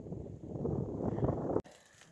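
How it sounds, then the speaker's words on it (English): Strong wind by a lake buffets the microphone in a low, rumbling roar for over a second, then cuts off abruptly. "There's the lake, it's super windy right now."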